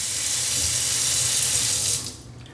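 Water gushes steadily from a single-handle pull-out sprayer kitchen faucet in a bright, hissing stream, then cuts off abruptly near the end.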